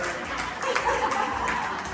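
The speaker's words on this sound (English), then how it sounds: "Everyone give a round of applause" An audience at a Hispanic women's community celebration gives a round of applause, a moderate, steady clapping mixed with crowd noise and voices.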